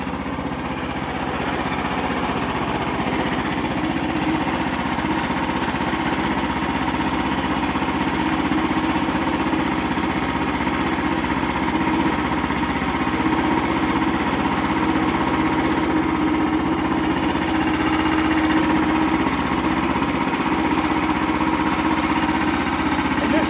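Frontier OS27 portable sawmill engine idling steadily after a choke start, a continuous mid-pitched small-engine drone with a light rattling vibration, alone for over twenty seconds.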